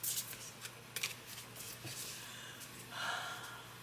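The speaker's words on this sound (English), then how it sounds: "they shuffle very nicely" Large oracle cards with a matte finish are shuffled by hand, giving soft, quick riffling and flicking bursts over a low steady hum, fairly faint and close.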